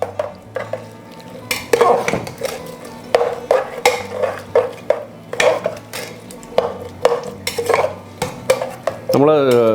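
A spoon stirs ground paste and water into a green peas curry in a pressure cooker, with repeated scraping and clinking strokes against the metal pot at an uneven rhythm, close and fairly loud.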